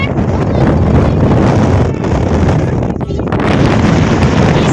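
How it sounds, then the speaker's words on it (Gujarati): Strong wind gusting across the White Desert salt flat in Kutch, a loud, steady roar of buffeting microphone noise that fills the whole stretch with only brief dips. "દીદી બહુ પવન આવે છે"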